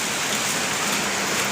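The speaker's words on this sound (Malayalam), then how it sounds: "മഴ ശക്തമായി കേട്ടോ." A heavy downpour drums on surfaces in a steady, loud, wide wash of noise that never lets up, with no voices heard.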